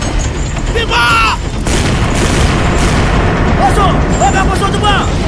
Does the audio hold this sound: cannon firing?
yes